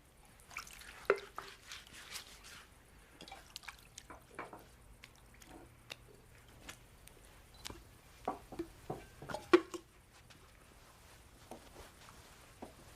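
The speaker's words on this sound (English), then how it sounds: "he poured some water into a wash basin and began to wash the disciples' feet" Water in a wash basin being splashed and poured over feet during washing, heard as soft, scattered drips and light splashes with quiet gaps, fairly faint and close, with no talking.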